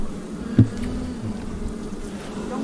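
Honeybees buzz around a hive where they are building comb, a steady close hum with a brief knock early on.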